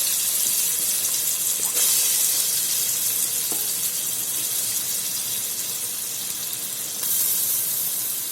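One medium-size finely chopped onion sizzling in two tablespoons of hot oil for a keema pasta gravy, giving a steady broadband hiss that runs close and fairly loud throughout with no talking.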